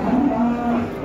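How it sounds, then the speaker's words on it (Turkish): A cow gives a single short, close moo at a livestock market, loud and clear against a low background murmur. "Bizim yerli inekler öyle değil mi?"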